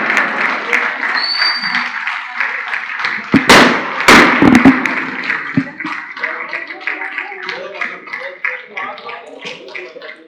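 Audience applause at a district governor's installation ceremony, a broad steady wash of clapping with a few sharp louder bursts partway through, then thinning out toward the end.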